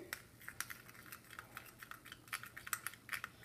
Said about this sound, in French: Donc on va mélanger notre colle.